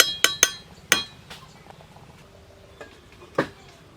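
A lid is set onto a pot of simmering mushroom curry, giving a few sharp metallic clinks and rattles close by, followed by softer scattered taps and a final clank.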